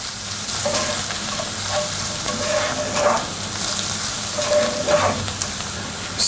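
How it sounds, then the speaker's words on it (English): Onion and sauerkraut frying in a pan, a steady loud sizzle with the occasional scrape of stirring and no talk. "Let's add our sauerkraut. Mix up the onion and fry about 2-3 minutes."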